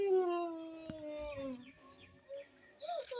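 A dog howls in long, wavering, drawn-out cries with a few sharper yelps mixed in, loud and close, with no talking.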